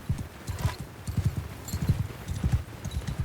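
Steady clip-clop of horse hooves trotting in the video game Mount & Blade II: Bannerlord, a rhythmic run of low thuds close by, with faint background noise and no talking.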